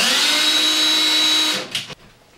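A power drill whirs at a steady high pitch for about a second and a half, boring a small starter hole into a wall, then winds down and stops with a brief clatter.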